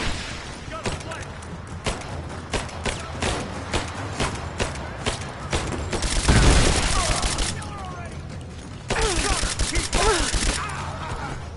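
Gunfire rattles through a Rise of the Tomb Raider firefight as steady bursts of automatic shots, with heavier blasts and combat noise swelling in the middle and near the end.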